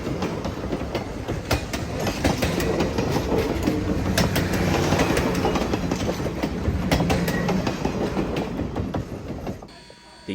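Texas State Railroad steam locomotive No. 30, a 2-8-2 Mikado, running through the East Texas piney woods on a Palestine–Rusk excursion; a steady, loud rumble with clickety-clack of wheels over rail joints that fades out at the end.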